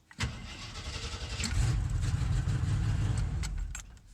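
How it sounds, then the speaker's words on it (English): A 1987 Jeep J-20 engine cranks and starts with the transmission in park, a short crank rising into a steady low idle, close by and alone. "you can try starting it in the park position"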